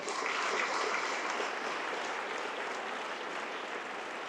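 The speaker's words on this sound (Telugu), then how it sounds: "మీ అందరూ ఒక్కసారి గట్టిగా చప్పట్లు మోహన్ అన్నకి" Audience clapping for Mohan at a TTA scholarship ceremony in Banswada, a dense, continuous round of applause from a crowded hall that holds strong and fades slightly toward the end.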